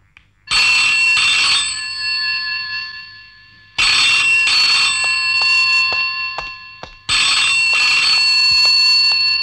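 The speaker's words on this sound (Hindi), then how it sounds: "कुमार का फोन था? कट गया" A telephone rings three times in long electronic bursts, each ring separated by a short pause, loud and close.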